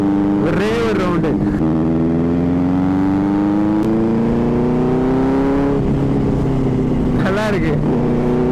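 A superbike ridden in Goa, its engine droning steadily with a rising pitch, broken by two sharp throttle revs near the start and end, loud and close.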